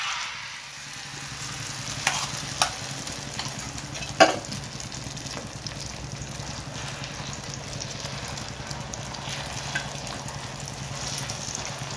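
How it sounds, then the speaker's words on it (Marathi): Masala egg mixture for an omelette poured into hot oil, giving a steady, fairly quiet sizzle and frying hiss with a few small clinks and a brief louder splash near the middle. "आता आपला तेल गरम झालेला आहे आणि आता आपण अंडा टाकूया।"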